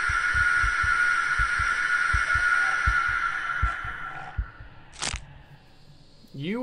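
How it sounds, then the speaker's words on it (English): In the horror video game The House, an uneven heartbeat thumps low and close in an irregular rhythm under a high whining tone, then fades as brief sharp effects cut in near the end. "I have a very irregular heartbeat."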